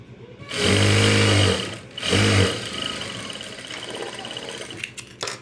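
A sewing machine top-stitches the lining of a katori blouse with two close, steady whirring runs. The first lasts about a second and the second is shorter, followed by quieter handling noise.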